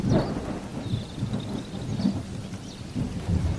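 Rumbling thunder with steady rain falling during a storm, a low continuous roll with soft hiss of rain throughout.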